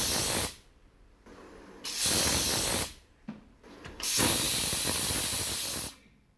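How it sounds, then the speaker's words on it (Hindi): A pressure cooker whistle hisses loudly in three long bursts of steam, separated by short quiet gaps. "कुकर की सीटी पे कहाँ डांस होता है यार"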